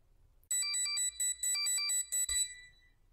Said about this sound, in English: That's the sound of my Amazon pager going off and alerting me to a possible issue with one of